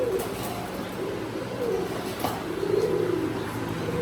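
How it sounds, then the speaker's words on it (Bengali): Imported high-flying pigeons coo softly inside a loft shed, repeated low throaty calls overlapping at moderate distance over a faint background hum. "এ হলো আমার ফ্লাইং শেডের কিছু কবুতর।"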